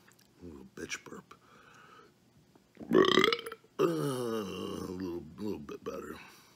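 A man burps loudly after eating a Wendy's Triple Baconator burger. Two long, gurgling belches stand out between his murmured talk, close and forceful.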